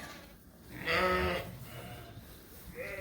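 Sheep in a crowded lambing barn give one loud, drawn-out bleat close by, followed moments later by a shorter, fainter bleat against a low barn hum.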